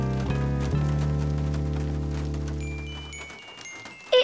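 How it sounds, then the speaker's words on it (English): Steady rain patters on a surface for a few seconds, then fades out near the end, followed by a brief louder sound. "It's rain."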